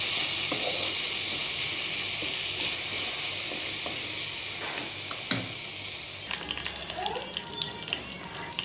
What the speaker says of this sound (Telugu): ఇదండి తాలింపు పెడుతున్నా.